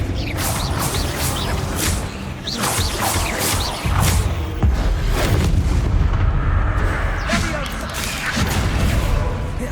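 The Bombarda explosion spell in Hogwarts Legacy sets off a loud, close, dense barrage of booming blasts and crashing impacts that rumbles continuously, with rapid repeated bursts early and sustained heavy roar throughout.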